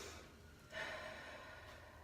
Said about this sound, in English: Take those few breaths if you need it